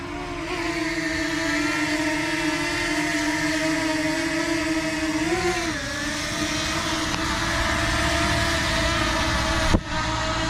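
DJI quadcopter drone hovering and moving forward and back in windy outdoor conditions, a steady whining motor hum that dips and rises in pitch, with a sharp knock near the end.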